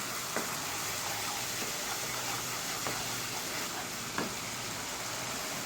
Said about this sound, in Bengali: মশলাটা আমার কষানো হয়ে গেছে এর উপর আমি গরম মশলা দিয়ে দিচ্ছি